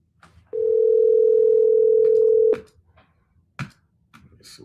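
A phone emits one steady dial tone for about two seconds when a call is placed by voice assistant, sharp and clear, then cuts off and leaves a few soft knocks and clicks.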